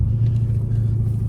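A modified Dodge Challenger SRT Redeye drives along with a loud, steady low exhaust rumble close by and no talking.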